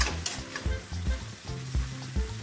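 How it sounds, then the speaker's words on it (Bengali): Spiced prawn curry stirred in a hot pan, a wet sizzle with rhythmic scraping strokes repeating every half second or so, close and steady, no voices. "ভালো করে মিশিয়ে নিলাম।"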